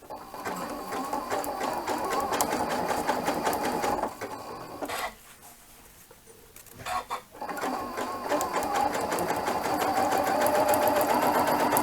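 A Janome sewing machine with an Ultra Glide foot runs close and loud while attaching elastic, whirring steadily for about four seconds, pausing briefly, then running on continuously to the end.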